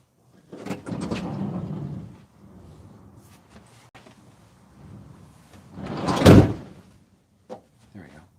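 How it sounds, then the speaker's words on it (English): A car door is slammed shut with one loud, sharp bang near the end, after a stretch of low rumbling movement and muffled handling close by. "that light won't turn off unless I slam this door"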